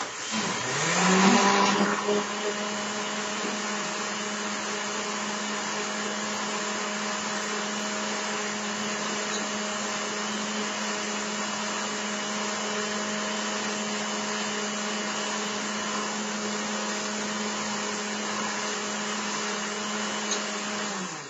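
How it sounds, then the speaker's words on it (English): A countertop blender runs steadily for about twenty seconds, whirring a shake of banana, stevia and juice, with a louder surge at the start before settling into an even, close motor drone. "Then I run my blender to blend it for a few minutes."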